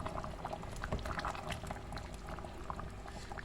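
Simmering coconut-milk stew with fresh shrimp paste and chili bubbling steadily in a pot while being stirred, a dense continuous boil with small scattered pops and clinks throughout, no talk.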